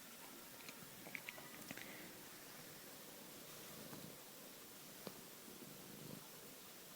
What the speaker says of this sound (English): who's on my knee now and purring away contentedly